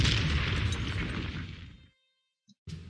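A German 88 gun firing on artillery in the Panzer Corps strategy game, one heavy booming blast with a long rumbling decay that cuts to silence, then a tiny click and a fresh burst of noise.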